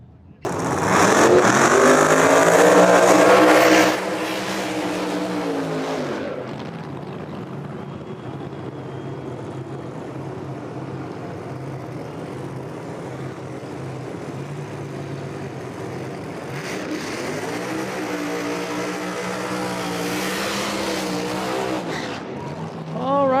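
No-prep drag race cars roar loudly at full throttle, rising and falling in pitch as they tear past, then fade to a steady rumble before a second pair blasts by just as loud.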